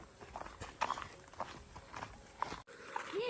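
A bullock cart pulled by bullocks in rural Konkan on Anant Chaturdashi, used to carry a Ganesh idol to the river for immersion: irregular, fairly faint hoof clops and steps plod along with a few brief incidental noises.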